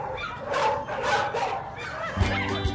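Dogs bark and yip in bursts amid a busy outdoor crowd at a charity dog walk, with the barking close and mixed with general chatter and background noise.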